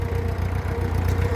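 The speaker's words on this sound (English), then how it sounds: "It's just like a challenge to talk over the Land Rover going." A Land Rover engine runs nearby on a farm, a steady low idling rumble with a faint knock, loud and continuous without any talk.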